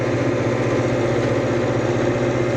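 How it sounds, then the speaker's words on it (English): A tractor engine runs steadily while working dry, chunky, hard-packed soil on a farm, a loud, close, continuous low drone with a rough mechanical throb and no speech over it. "you can hear it's definitely working, the tractor"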